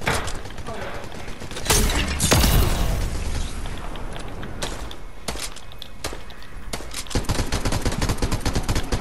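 Combat assault rifle gunfire in the Fortnite video game comes in rapid bursts and sharp cracks amid building impacts and game effects, with a player talking over the action.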